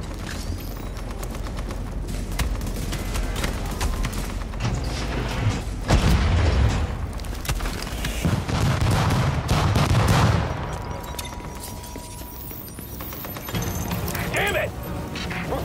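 Turret gunfire in a video game's battle, dense rattling bursts and booms running continuously through the stretch, heaviest near the middle, with game voices talking over the barrage.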